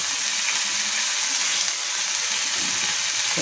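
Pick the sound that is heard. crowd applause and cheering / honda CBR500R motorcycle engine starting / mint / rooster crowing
mint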